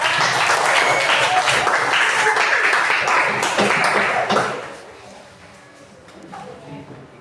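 Dense applause from a classroom of students for a student group during a teacher-training lesson, loud and sustained for several seconds before quickly dying away into quiet room noise.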